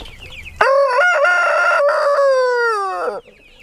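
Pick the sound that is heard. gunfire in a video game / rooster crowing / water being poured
rooster crowing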